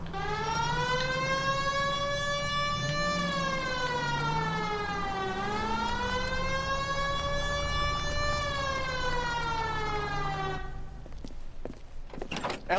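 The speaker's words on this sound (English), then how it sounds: "Hit the siren." A police car siren in the video game L.A. Noire wails loud and close in rising and falling sweeps, then cuts off near the end, leaving brief thumps.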